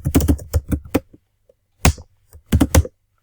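A computer keyboard typing a short command in PowerShell, a quick cluster of crisp, close key clacks, then a pause, a single tap and a final short burst.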